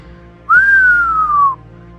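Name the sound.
person whistling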